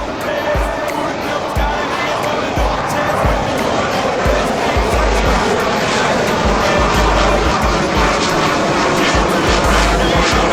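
A Super Hornet jet flies past at the AirVenture airshow, producing a loud, steady roar that fills the whole stretch without letting up, with faint voices mixed in underneath.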